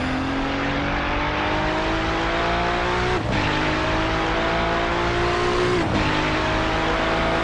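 GTP prototype race car in iRacing, a loud sustained engine whine climbing through the gears with two clear upshifts, a continuous rising drone heard from close by.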